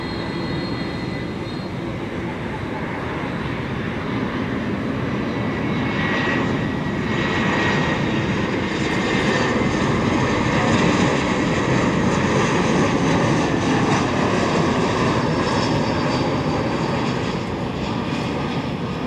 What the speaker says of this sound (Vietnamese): Bây giờ thì chiếc máy bay đã hạ cánh xuống đường băng 25 phải